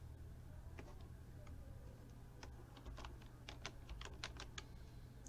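Computer keyboard typing in a spreadsheet program, a quiet run of light key taps that grows busier toward the end over a steady low hum, with faint speech in the background.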